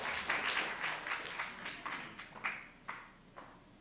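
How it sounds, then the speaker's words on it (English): Scattered, sparse clapping from a small audience after a welcome, a few distinct hand claps spaced irregularly and fading out, faint and close. "give her a round of applause"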